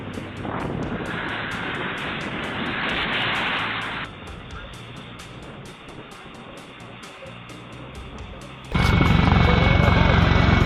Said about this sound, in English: Near a runway, a helicopter swept low over nearby people